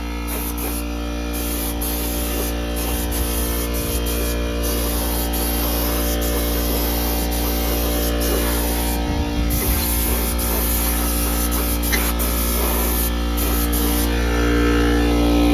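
Continuous hissing spray from a spray paint can painting a K-series engine valve cover, steady and close, with brief pauses and a constant electrical hum behind it.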